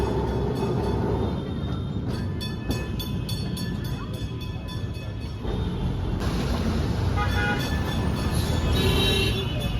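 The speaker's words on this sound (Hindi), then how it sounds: "कोलकाता भारत का अकेला ऐसा शहर है जहां ट्रैम आज भी बड़े शान से सड़क पर चल रही है।" Kolkata street tram rolling along rails through the city, a steady loud rumble with rhythmic clacking of wheels over rail joints and shifting metallic squeals, continuous throughout with faint background voices.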